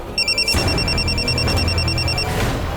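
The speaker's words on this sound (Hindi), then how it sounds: "आमीन, तुम मेरा फोन कट क्यों कर रही हो? कब से फोन कर रहा हूँ तुम्हें?" A phone rings close by with a bright electronic warble in short repeating pulses for about two seconds, over a dull background rumble before it stops.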